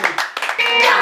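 Hands clap at a church gathering, a few sharp close claps in quick succession followed by a denser burst, with voices mixed in.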